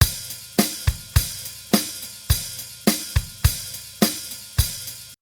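Drum track run through New York parallel compression: a steady kick-and-snare groove with fuller, thicker hits and longer sustained tails between beats, played alone without any speech.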